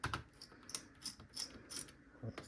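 Small screw clicking as it loosens from the case of a Lenovo ThinkPad W530 laptop, a series of light, close ticks spaced unevenly over a couple of seconds, faint and alone.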